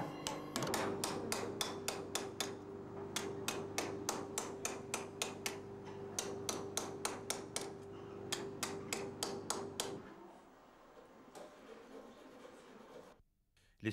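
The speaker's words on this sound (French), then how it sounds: "Ils sont mis en forme par battage au marteau sur des formes en bois dur" Metal sheet of bronze or brass hammered over a hardwood form in Gallo-Roman metalworking: a steady, rapid series of sharp, ringing hammer blows, close and loud, with a sustained metallic hum beneath, then a few scattered taps after the rhythm stops.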